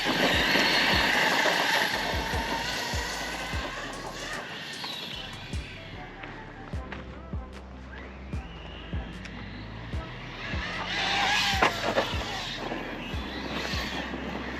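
An Arrma Outcast 6s EXB RTR electric RC car drives at speed outdoors. A loud, broadband motor and tire roar swells at the start, falls to scattered thumps and knocks in the middle, then surges again near the end.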